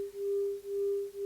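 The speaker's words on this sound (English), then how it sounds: "every second the 400 hertz wave is going between being completely silent and then being completely" A pure 400 hertz sine tone swells and fades roughly twice a second, a steady beep that pulses smoothly between near silence and full volume.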